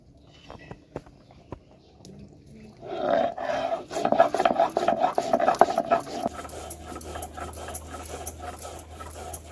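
Fried spices being ground into a paste for a katla fish curry, a rough rhythmic rasping and rubbing that starts after a few quiet seconds, builds to a steady close scrape, then settles into a lower continuous grind.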